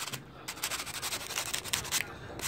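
Sanding an engine part during a top-end rebuild of a GY6 180cc scooter, a close, quiet rhythmic rubbing and scratching in short repeated strokes, heard alone.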